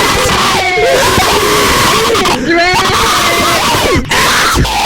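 Kids scream and yell continuously in an Among Us VR lobby, loud overlapping shrieks and shouts packed tightly with barely any pause.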